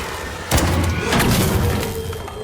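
An explosion in the video game ARC Raiders: a sudden loud thump followed by a sustained, rumbling blast that fades out over a couple of seconds, with no speech.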